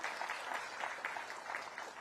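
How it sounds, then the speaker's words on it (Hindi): Steady audience applause fills a Teacher's Day award ceremony hall in Uttarakhand, a dense, even wash of many hands clapping at a distance, fairly quiet and continuing without a break. "तालियां कमजोर नहीं पड़नी चाहिए।"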